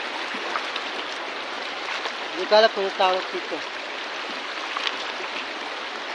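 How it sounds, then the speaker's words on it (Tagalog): A flowing river: a steady, broad rush of water heard continuously at moderate level, with someone speaking briefly over it partway through. "Ito na yun guys, malinaw ito yung ilog."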